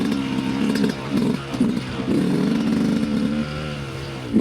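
A motorcycle engine revs repeatedly up close, throttle blips rising and falling over a continuous rumbling idle, loud and steady throughout with no talking.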